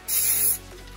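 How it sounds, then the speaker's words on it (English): Cleaner sprayed into a Paslode IM65 second-fix nail gun during servicing, heard as one short, close, bright hiss of about half a second, with no voices. "Maybe get a little spray in here."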